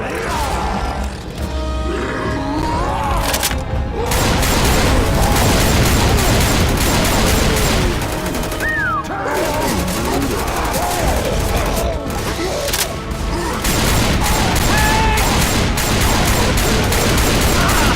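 Rapid gunfire from survivors in Left 4 Dead 2 on a Highway 17 custom campaign, loud overlapping shots and crashes fighting a tank, with characters shouting over the chaos.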